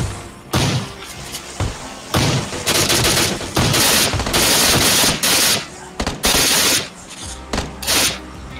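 Rapid bursts of automatic gunfire and heavy shots crack loudly and repeatedly, with short pauses between volleys, in a PUBG Mobile arcade mode firefight.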